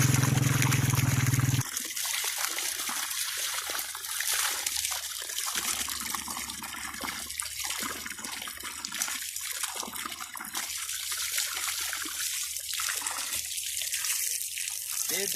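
Water gushes steadily and without pause from a magical village hand pump, a constant close splashing rush that carries on throughout.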